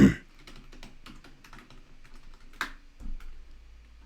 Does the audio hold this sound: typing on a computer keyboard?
yes